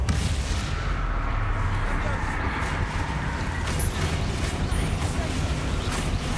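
Confringo and Bombarda spell blasts in Hogwarts Legacy, a steady barrage of crackling, booming impacts under continuous battle noise, with a voice talking throughout.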